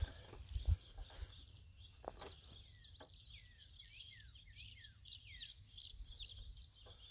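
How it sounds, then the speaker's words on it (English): A flock of house finches squawks and chirps in a busy, overlapping chorus at mid distance on an arboretum bird walk, with a few footsteps and rustles nearby. "I hear a whole bunch of squawking over there"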